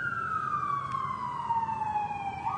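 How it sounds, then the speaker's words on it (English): An emergency vehicle siren passing by outdoors, a single sustained wailing tone sliding gradually downward in pitch as it moves, fairly loud over a faint background hum, with no talking. "It's not so much because the siren's going by"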